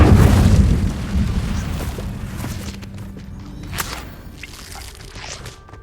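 Casting the Incendio fire spell in Hogwarts Legacy gives a loud burst of whooshing flame at the start that fades into crackling and scattered small impacts.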